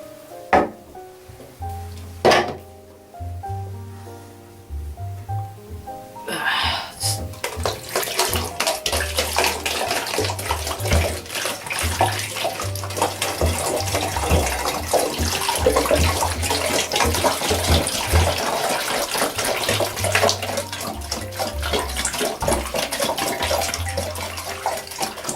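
Water runs from a tap into a one-liter container, a few clunks of handling first, then a steady loud rushing stream that continues for over twenty seconds.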